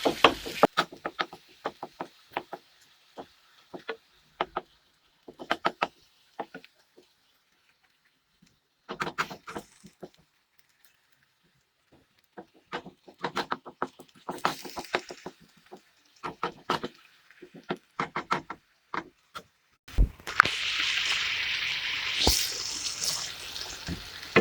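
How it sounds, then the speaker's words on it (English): Minced chicken being broken up in a cooking pot: a string of quick, close knocks and scrapes of a utensil against the pot in irregular bursts, with a brief pause midway and a hissing, watery sizzle rising at the end. "I'm just going to start breaking up a pot because once it starts to cook, this entire thing to just become one block of minced meat"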